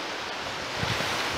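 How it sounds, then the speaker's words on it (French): Wind blows through frost-damaged fig trees on an April day, a steady close rushing hiss with a slight gust near the end, alone. "Donc il y a du vent."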